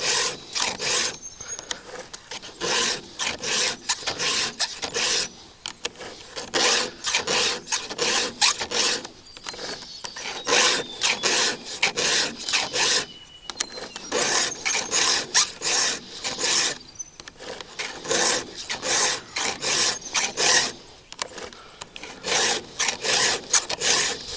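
Chainsaw chain being sharpened with a hand file, a close, loud metallic rasp repeated in fast regular strokes for a long stretch, with short breaks as the file is repositioned.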